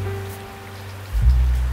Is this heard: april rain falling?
yes